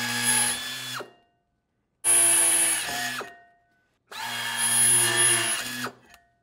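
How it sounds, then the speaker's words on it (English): A standard handheld power drill bores holes in three bursts of about a second each, separated by short silences, spinning up loudly then winding down. "with a standard handheld drill, these holes are out of round"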